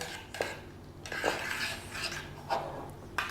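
Soft scraping and swishing of a spoon moving through a pot of mussel and fennel curry soup with parsley, with occasional light clinks against the side, fairly quiet and close.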